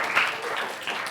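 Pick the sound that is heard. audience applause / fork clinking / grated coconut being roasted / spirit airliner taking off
audience applause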